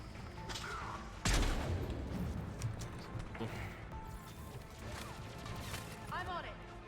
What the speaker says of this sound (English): Oh, you're shooting me